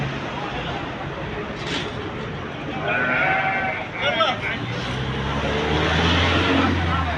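Goats bleating at a livestock market in Madinah, Saudi Arabia, several calls rising over a steady crowd murmur and nearby traffic, with people talking throughout.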